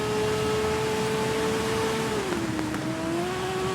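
Motorcycle engine in the TT Isle of Man racing game, holding a high steady whine at speed, then dropping in pitch as the throttle eases and rising again, loud and continuous.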